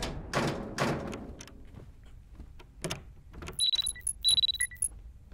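In a Chilla's Art horror game, a repeating electronic alarm beeps in short bursts near the end, after earlier thuds, clicks and rattling handling noises.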